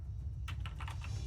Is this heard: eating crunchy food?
no